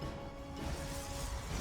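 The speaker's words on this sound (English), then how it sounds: "Lings trying to knock down this front door" Zerglings in StarCraft 2 batter at a front door, a dense continuous clatter of crashing hits with a steady tonal hum beneath it, fairly quiet and uninterrupted.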